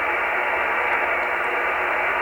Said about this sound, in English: we cross into a portion that is more of a utility signal below 3500